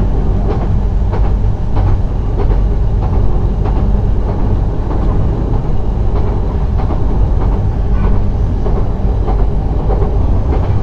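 Suborno Express, a non-stop passenger train in hilly Bangladesh, rumbles steadily along the rails with a continuous loud roar and rhythmic clickety-clack of wheels over joints, heard from onboard throughout.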